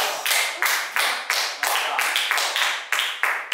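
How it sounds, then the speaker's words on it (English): A small group in a magic show audience claps in a loose, uneven pattern of roughly a dozen distinct, close-up hand claps, each sharp with a short ring, with no voices heard. "give yourself a round of applause"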